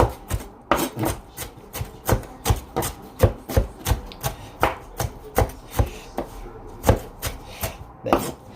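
A knife chops a pepper on a board for beef goulash, about twenty crisp, close, evenly spaced strikes in a quick rhythm with no talking.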